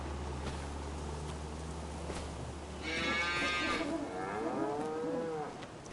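A water buffalo lowing in Farming Simulator 25, a loud nasal moo followed by a second lower, sliding call, close up over a steady low hum.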